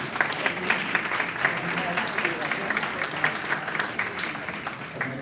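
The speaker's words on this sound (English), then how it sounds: "Maybe a round of applause for them." Audience applause at a congressional candidate forum, a dense wash of many hands clapping that holds steady, fairly loud and continuous, through the whole stretch.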